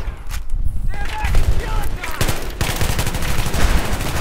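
Dense automatic gunfire from the Battlefield 3 multiplayer game, loud and continuous with rapid overlapping bursts over low rumble, carrying on throughout with voices talking over it.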